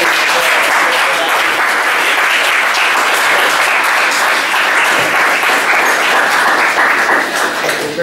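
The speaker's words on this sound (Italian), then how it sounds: "Vi ringraziamo con un applauso, direi." Sustained audience applause at the close of an Italian history lecture on the 1974 Cyprus coup and Turkish invasion, dense and even throughout with many hands clapping together, filling the hall without a break.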